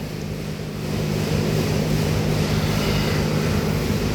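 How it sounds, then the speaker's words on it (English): A Ford F-150 service truck with a 4R100 transmission runs rough, its engine giving a steady, loud low rumble that swells slightly after the first second and holds without speech. "The engine, unfortunately, is not running so well."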